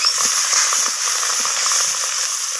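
Pieces of rohu fish sizzle in hot oil with a dense, even crackle and faint scraping taps, close and alone.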